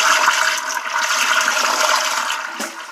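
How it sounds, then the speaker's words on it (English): A toilet flushes loudly and steadily after its tank float has been adjusted, a continuous rushing of water that runs for the whole stretch and fades slightly at the end. "I'm just curious to see how well it flushes."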